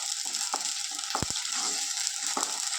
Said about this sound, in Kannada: ಈಗ ನಾನು ಟೊಮೆಟೊನ ಹಾಕ್ತಾಯಿದ್ದೀನಿ.